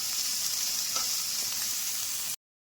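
Sliced onion sizzling in a hot kadai (wok), a steady close frying hiss with a few faint stirring taps, cutting off abruptly near the end.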